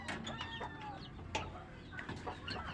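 A breeder's pet birds give scattered chirps and sharp calls, with a few louder bursts among softer twittering over a low continuous background rumble, fairly quiet overall.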